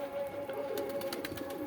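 Giribaz pigeons coo softly on a house rooftop, a brief, low murmuring call over a steady background hum.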